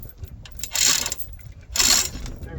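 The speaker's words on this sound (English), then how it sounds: "I can go ahead and jack it completely up so it's all the way up against the frame" A jack raises a Terex backhoe rear axle up against the frame, giving two bursts of rapid mechanical ratcheting clicks with a low rumble between them, close by.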